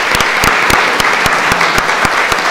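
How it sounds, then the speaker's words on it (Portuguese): Loud applause from an audience at a formal session honoring people resisting forced evictions, a dense crowd roar of clapping with sharp individual claps standing out at a steady rhythm, close and continuous. "Eu queria uma salva de palmas àquelas pessoas que resistem"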